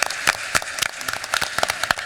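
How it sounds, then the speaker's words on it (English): A smaller audience gives a round of applause to a session sponsor at an energy-industry technology panel, with distinct individual claps rapidly overlapping and fairly close. "And so a round of applause for KBR."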